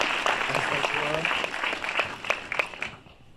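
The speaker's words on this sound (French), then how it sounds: "Applaudissez bien fort Yasushi." A crowd at the 2021 Piolet d'Or award ceremony claps steadily, the applause gradually thinning and fading out toward the end, with a voice briefly audible underneath.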